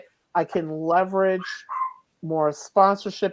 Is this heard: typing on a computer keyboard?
no